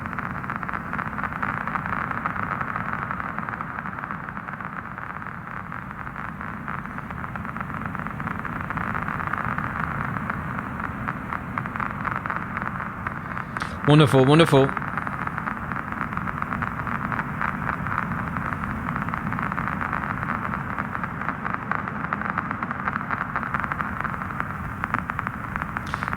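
Storm sound design processed with a vinyl distortion effect: a steady hiss of rain-like static and crackle over a low hum, with a brief warbling burst midway and a voice speaking briefly.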